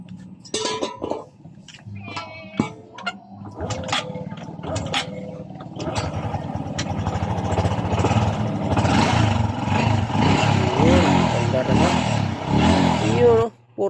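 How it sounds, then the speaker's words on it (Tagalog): A 2023 Honda XRM 125 fuel-injected motorcycle being kickstarted, a few sharp kicks and clatter before the engine catches and settles into a steady close idle, with someone talking over the start. "So crank muna tayo, kickstart muna tayo."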